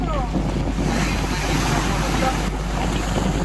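Ocean waves wash onto an Indian beach where children play, a steady broadband surf roar with gusting wind buffeting the microphone throughout, loud and continuous with no distinct breaks.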